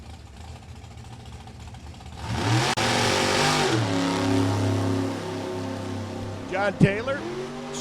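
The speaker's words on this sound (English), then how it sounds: "John Taylor, 7 vehicles left in super gas competition, gets his run down the quarter mile" A super gas drag race car launches and accelerates hard down the quarter-mile at Bowling Green, its engine roaring loud and rising in pitch, with a track announcer talking over the run.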